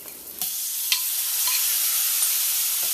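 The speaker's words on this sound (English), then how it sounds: "this is where we're going to go in with the seasoned shrimp" Seasoned shrimp hit a pan of toasted curry and sizzle steadily, with a few stirring scrapes and soft knocks over the continuous loud frying hiss.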